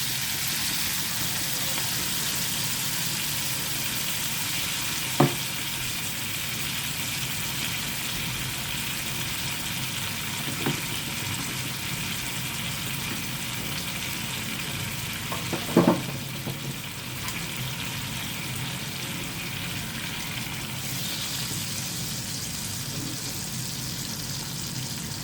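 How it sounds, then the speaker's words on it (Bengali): Mustard, poppy seed and coconut paste frying in a pan for a prawn malai curry, a steady soft sizzle throughout with a few faint clinks of a utensil scattered through, and no talking. "এবার আমি সর্ষে, পোস্ত আর নারকেলের পেস্টটা দিয়ে দেবো"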